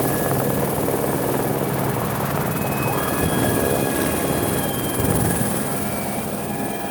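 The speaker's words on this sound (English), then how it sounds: "there's a helicopter just gonna land there" A helicopter coming in to land on Mount Currie makes a steady, loud rotor roar with a constant engine whine, filling the scene throughout with no talking.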